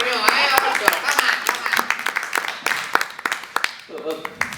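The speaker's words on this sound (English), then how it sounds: "Big round of applause for you, eh?" An audience applauds a film producer at a Q&A session during the Mimetic Festival in London, with scattered, uneven clapping running under continuous talk.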